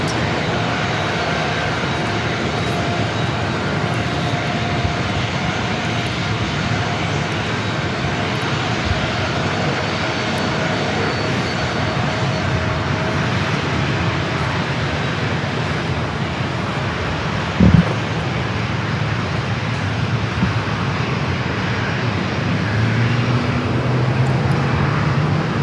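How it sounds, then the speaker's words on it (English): A Southwest Boeing 737-700 passes at San Diego airport with a loud, continuous jet roar that stays strong and steady throughout, under light wind noise and with a brief knock partway through. "The Southwest flight heading to Sacramento, flight 4552 is 737-8. I'm sorry, 700."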